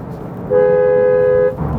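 A single dual car horn blast sounds loudly for about a second, a bright layered tone over quiet background noise.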